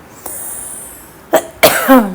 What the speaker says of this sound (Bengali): মাঝে মাঝে আমি একটু কাশি টেশি দেবো